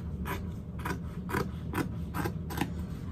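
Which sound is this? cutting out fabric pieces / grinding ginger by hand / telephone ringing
cutting out fabric pieces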